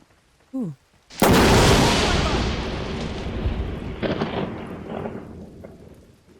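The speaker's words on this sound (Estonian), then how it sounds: "see oli äike." Thunder crashes in the video game Bigfoot: a sudden loud crack followed by a long rolling rumble that slowly decays over several seconds, preceded by a brief vocal sound.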